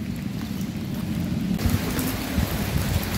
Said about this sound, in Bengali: খুব বৃষ্টি পড়ছে এখানে।